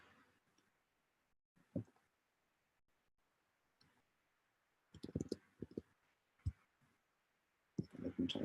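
Computer keyboard keys click in short irregular bursts, sparse at first and then clustered into quick runs of taps, close and fairly faint against a quiet background.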